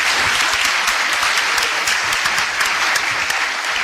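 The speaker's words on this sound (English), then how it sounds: "Give a big round of applause for all these candidates in the room tonight." A room full of people at a Montana Republican primary debate for a U.S. House seat applauds the candidates, a loud, dense and sustained round of clapping that holds steady throughout.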